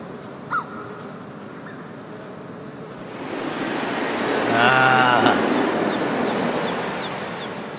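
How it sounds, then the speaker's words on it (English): Wind gusting across an open outdoor scene in a video game, a broad rushing noise that swells louder midway, with a brief crow-like caw early on and faint chirps near the end. "Fucking wind. My worst enemy."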